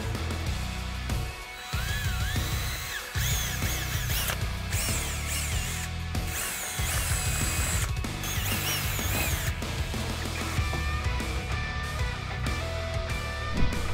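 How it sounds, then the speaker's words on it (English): A power drill with a 9/64 bit whirs steadily, boring two small pilot holes through the plastic dash of a Ford F150 for a dash mount, the motor sound continuous and loud with brief dips between bursts. "we're gonna use a 9/64 drill bit to make two little pilot holes through the plastic"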